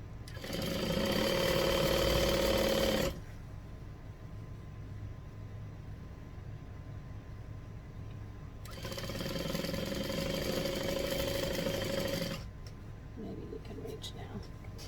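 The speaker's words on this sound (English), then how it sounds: "Let me sew a little bit further so I can show you what that corner looks like." Two bursts of a sewing machine stitching quilt binding, each running a few seconds with a quiet pause between, close and fairly loud against a low background hum.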